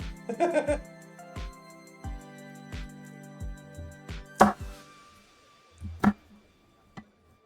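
A knife chops garlic on a cutting board with sharp, evenly spaced knocks, one hit landing harder than the rest, amid a few other kitchen clatters.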